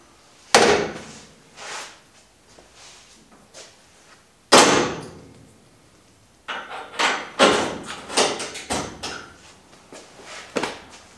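A swing-out roll cage door bar from an S&W Race Cars kit is opened and closed, giving sharp metallic clanks and latch clicks in irregular bursts with quiet gaps between.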